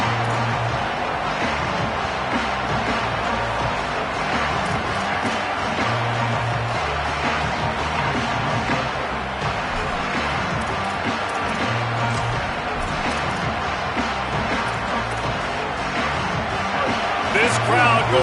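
Steady roar of a big stadium crowd at a college football video game, a broad, continuous hubbub with faint cheering swells, running under a commentator's voice throughout.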